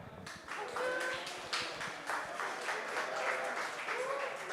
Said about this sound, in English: Let's give a round of applause for Nick.